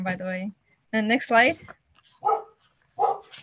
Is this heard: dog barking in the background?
yes